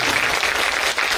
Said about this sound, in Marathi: त्यामुळे त्या चौघींसाठी जोरदार टाळ्या होऊन जातात